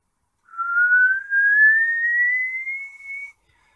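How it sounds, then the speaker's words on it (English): A single person whistles one long, steadily rising tone for about three seconds, clear and close with no other sound. "So let's try the whistling."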